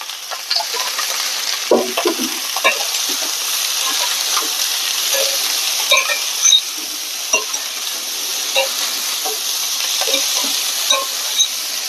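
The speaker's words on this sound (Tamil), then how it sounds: "வதக்கிக்கலாம்." Cauliflower sautéing in a pan with salt and turmeric, a steady frying sizzle and hiss running throughout with small stirring scrapes and clicks scattered over it, close and fairly loud, no talking.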